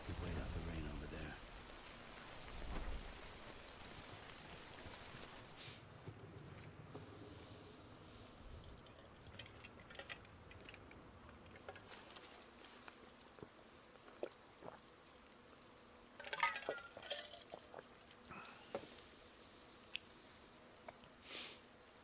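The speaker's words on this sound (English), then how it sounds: "Wait out the rain over there." Faint, steady rain falls in the video game Death Stranding as a soft, hissing patter. It continues quietly in the background throughout, with a few brief louder spatters near the end.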